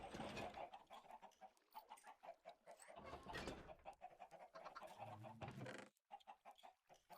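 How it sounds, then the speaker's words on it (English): Minecraft chickens cluck repeatedly in a busy, overlapping chorus, close and lively, with short bursts and brief pauses throughout. "I think we're at capacity with the chickens."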